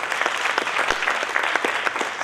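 Steady applause from a theatre audience at a comedy play, many hands clapping together in a continuous patter at moderate loudness, with no voices standing out.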